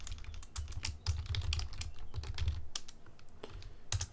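Code being typed on a computer keyboard: rapid, uneven key clicks close up over a low steady background hum.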